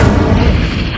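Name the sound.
Incendio fire spell being cast in the Hogwarts Legacy video game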